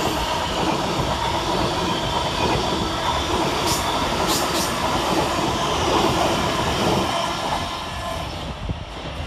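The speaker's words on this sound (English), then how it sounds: "Next up for Govia Thameslink is 700116, working 9J20 from Horsham to Peterborough." Govia Thameslink class 700 electric multiple unit passing Bowes Park station on a Horsham to Peterborough service, a loud sustained rumble of wheels on rails with brief high squeals, easing off at the end.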